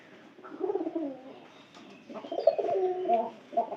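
Domestic pigeons coo in soft, throaty bursts close by, with two rounds of rolling calls separated by a brief pause.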